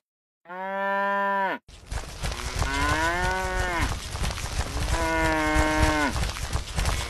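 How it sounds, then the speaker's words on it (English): A cow lets out three loud, drawn-out moos that stand alone and close by. The first is clean and tonal, and the next two are rougher and longer. "Cow."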